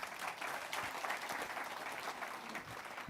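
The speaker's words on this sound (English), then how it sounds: "a round of applause to make sure we're still awake" A conference audience claps in steady, dense applause throughout, moderately loud and continuous, with no voices standing out.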